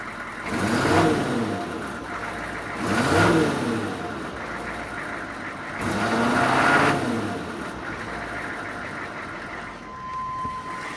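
Exhaust note from a 1996 K2500 pickup with a rebuilt 6.5-liter diesel, heard up close as a steady rumble that swells in three or four slow, loud pulses like repeated throttle blips.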